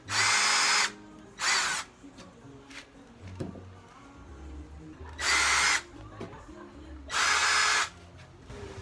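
A Ryobi power drill whirs in four loud bursts while driving screws into wood, each lasting under a second, with quiet pauses and faint handling clatter between them.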